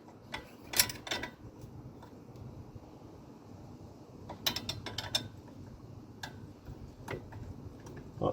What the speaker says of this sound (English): Next step is going to be getting an 18mm wrench on here with our 6mm hex, and we're just going to try and turn this guy.